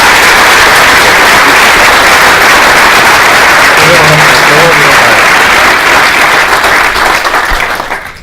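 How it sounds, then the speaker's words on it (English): Loud, dense applause from a conference audience after a keynote speech on energy at a business event, sustained steadily for about eight seconds before starting to taper, with brief voices faintly underneath. "Give Padraig a round of applause."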